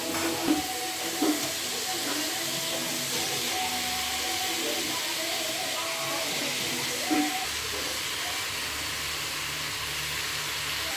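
Chicken being sautéed in a pan for a home-style Tamil chicken dish: a steady, loud, continuous sizzling hiss with a few faint knocks and a voice talking softly underneath.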